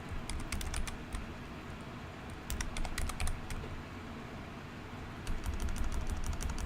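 Rapid, uneven bursts of typing on a computer keyboard, close and fairly quiet, with clusters of key clicks separated by short pauses and no voices.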